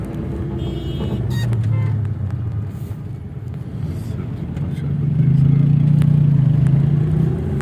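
A car drives through slow-moving traffic at about 10 to 20, its steady low engine rumble swelling slightly as it picks up speed.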